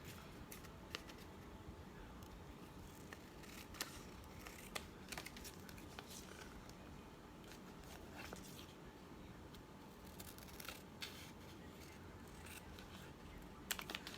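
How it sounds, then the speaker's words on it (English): Scissors cutting a small envelope shape out of a paper bag, heard as faint, irregular snips and paper rustles, close and quiet, with no talking. "So I'm going to cut out my little mini envelope."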